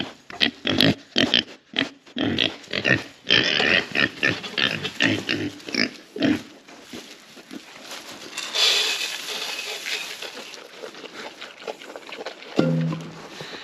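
Pigs grunting and snuffling as they eat pig food on a small farm, with busy close oinks at first that ease into quieter rustling and chewing.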